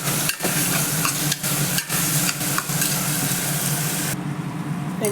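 Onion, tomato and green chili paste sautés in hot oil with a continuous close sizzle, broken by several quick stirring scrapes, fading slightly toward the end.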